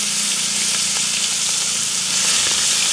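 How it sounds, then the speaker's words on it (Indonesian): Salted fish frying in too much oil for a home breakfast, a loud steady sizzle and crackle filling the whole stretch close to the pan, with no voices. "Oke, kita goreng asin."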